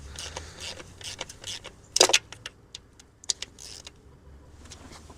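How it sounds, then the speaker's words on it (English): A hand ratchet tightens valve cover bolts on a 2018 Honda Civic engine, heard as short, close clicking bursts in quick succession with metallic tool clinks in between, fairly faint and without talk. "So right here I'm tightening down with the ratchet."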